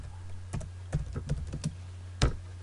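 Computer keyboard keys are pressed in a short, irregular sequence of crisp clicks, close and distinct, with a steady low electrical hum underneath and no talking.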